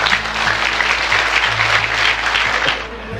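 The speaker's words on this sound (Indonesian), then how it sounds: "Tepuk tangan untuk beliau ya." Continuous audience applause at a religious talk gathering, thick and steady throughout, easing slightly at the very end.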